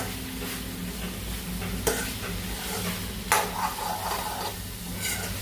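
Masala frying in a pan on a gas stove at high flame, a continuous close sizzle broken by a few sharp spoon strikes against the pan while it is stirred.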